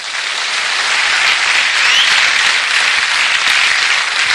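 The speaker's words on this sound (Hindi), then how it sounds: "और इसके लिए ताली मारो।" Dense, loud audience applause at a motivational training session, a continuous wash of many hands clapping that swells slightly and holds steady without any voices.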